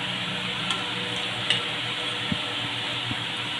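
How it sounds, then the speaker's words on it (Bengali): Potato chops deep-frying in hot oil, a steady, dense sizzle and bubbling holding level throughout, with a few faint clinks near the pan and no talking. "চপগুলো আমি উল্টে পাল্টে ভেজে নিলাম"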